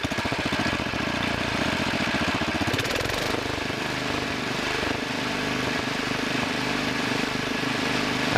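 A Wheel Horse tractor fitted with two engines runs after a carburetor adjustment, a loud, close, steady buzzing drone with a faint rhythmic beat, continuous throughout and with no talking.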